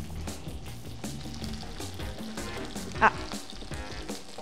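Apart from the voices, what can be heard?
octopus frying and sizzling on an Adventys induction plate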